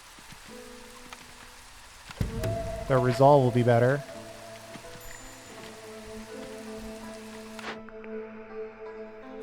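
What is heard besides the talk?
rain falling in the video game Against the Storm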